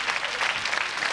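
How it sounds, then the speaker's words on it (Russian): Studio audience on a Russian TV quiz show claps steadily and loudly, a dense even patter of many hands sustained without break. "Пожалуйста, аплодисменты."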